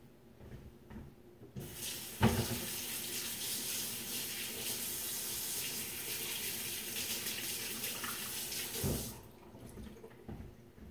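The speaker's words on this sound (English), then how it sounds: "now I got to wash up again" Kitchen sink tap running water for washing up while cooking meatballs with gravy, a steady broadband rush of about seven seconds starting abruptly with a clunk, faint handling sounds before and after, no talk.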